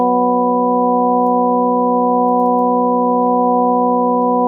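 A steady synthesizer drone holds one sustained, buzzing note at constant loudness with no change in pitch from start to finish.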